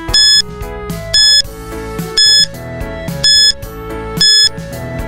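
A countdown timer on a school English quiz beeps loudly, five evenly spaced electronic bursts roughly once a second, over a steady musical background with no talk.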